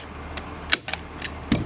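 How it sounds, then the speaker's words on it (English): A staple gun drives a few staples through marine vinyl at the corner of a boat floor, giving sharp, close mechanical clacks spaced irregularly over a quiet background. "So I'm gonna give that a couple staples."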